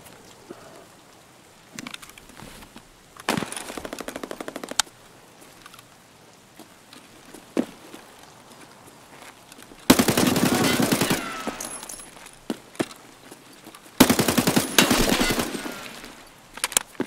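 Player gunfire with hollow point ammo in Escape from Tarkov, set on the Customs map: several rapid automatic bursts, two long loud ones late in the fight, with quieter scattered shots and gaps of near silence between them.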